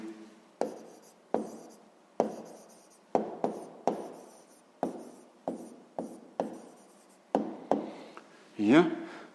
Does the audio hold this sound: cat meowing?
no